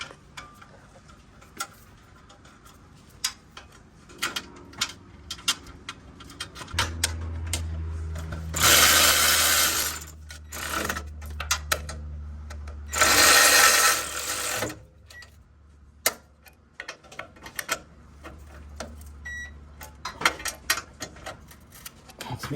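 An electric wrench drives heat shield screws under a 5th-generation Toyota in two loud bursts of a few seconds each. Quieter clicks and tool handling sounds surround the bursts.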